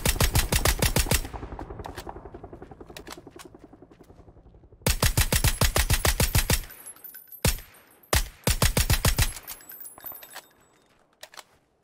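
Long bursts of rapid automatic gunfire in PUBG, close and loud, with a pause of decaying echo between volleys, then shorter bursts and single shots that fade into quiet at the end.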